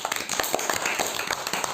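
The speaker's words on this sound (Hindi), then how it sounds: "ताली बजाओ भैया एक बार।" A class of young children clapping together in a classroom, a brief burst of many hands with scattered uneven slaps over roughly two seconds, fairly close and moderately loud.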